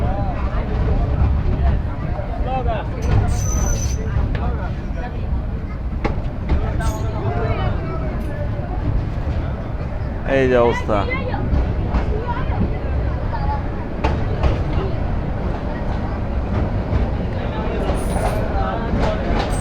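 The Sagorika Express local train to Chandpur rumbles steadily along the rails, a loud continuous roar with rattling carriages, while passengers talk over it throughout.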